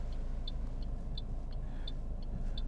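Steady low road rumble and engine drone inside a moving Toyota Corolla share car in Sydney, with faint regular ticking like an indicator clicking throughout.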